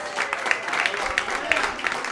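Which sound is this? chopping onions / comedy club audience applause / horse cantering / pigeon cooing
comedy club audience applause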